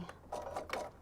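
A sewing machine top stitching down a zipper in plush minky fabric, running in a short close burst of quick mechanical stitching with a few uneven pulses.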